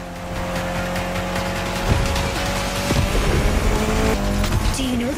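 A Mitsubishi Lancer Evo X racing in The Crew Motorfest, its engine droning loudly and steadily with tire squeal and shifting tones, a speaking voice running over the engine noise.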